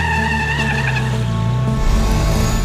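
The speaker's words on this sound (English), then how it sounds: "You hear in the background our truck's coming." Iron Knight, a record-breaking truck on a 1,000-metre speed run, approaches with a loud, steady engine roar and tyre noise that swells near the end.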